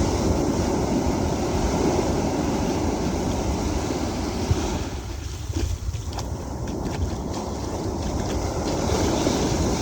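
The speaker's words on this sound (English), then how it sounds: "waves." Ocean surf rolls in at Nacpan Beach, Palawan, as a loud, broad, continuous wash with gusty wind buffeting the microphone; the roar dips briefly in the middle before building again, with no voices.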